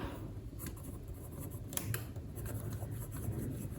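Pen scratching across paper while an equation is worked out by hand, with steady rubbing strokes and a few sharper scrapes over a low background hum, close and moderately quiet, no voice.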